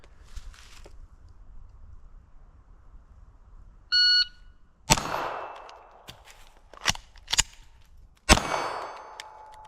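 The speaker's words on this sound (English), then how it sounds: "So I'm going to fire one shot, reload, and then fire another shot." On a shooting range, a shot timer gives one sharp electronic beep, then a Taurus TX22 .22 pistol fires a loud shot, followed by reload clatter and a couple of sharp clanks, then a final loud shot.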